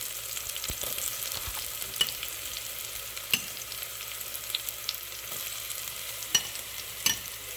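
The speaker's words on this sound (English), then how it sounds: "And just stir, stir, stir, and then finally add my mushrooms" Mushrooms sautéing in a pan with steady stirring, a soft continuous frying hiss broken by occasional light scrapes and clicks of the utensil, close and moderate in level, no talking.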